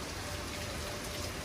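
Steady rain falls during flooding in Sydney, a dense even hiss of drops on surfaces, continuous and moderately loud, with no voices.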